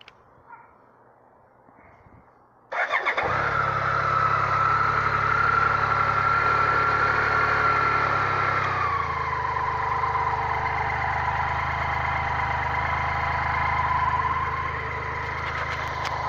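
A BMW K75 motorcycle engine cranks and catches after a quiet start, then settles into a steady, loud idle with a whining mechanical tone that drops slightly in pitch partway through, with no voices.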